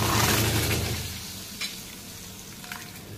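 Hot tadka tempering for dal pakwan pours into cooked dal in a kadhai, giving a loud burst of sizzling and frying that fades over a few seconds, with a couple of light clinks of utensils.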